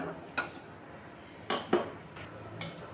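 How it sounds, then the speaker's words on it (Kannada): A few sharp metallic clanks of a pressure cooker being set down on a gas stove, spaced apart, in an otherwise quiet kitchen with faint background hiss. "ಗ್ಯಾಸ್ ಆನ್ ಮಾಡಿಕೊಂಡು ಒಂದು ಕುಕ್ಕರ್ ಇಟ್ಕೊಂಬಿಡೋಣ"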